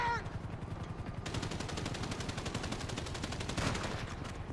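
Rapid automatic gunfire in GTA V as a player shoots at police: a dense, steady burst of machine-gun shots heard close but fairly quiet, continuing throughout.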